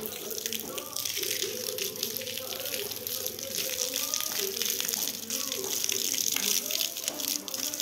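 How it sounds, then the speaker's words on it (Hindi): Tap water pours steadily for a bath in a village setting, a close, continuous gushing splash that runs the whole time with little change. "आज मैं नलकी के पानी से नहा रहा हूँ।"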